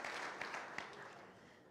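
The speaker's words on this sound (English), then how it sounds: "we should clap for that." Brief audience clapping at a mayor's 2023 State of the City address, a soft, distant wash of hands that fades over under two seconds.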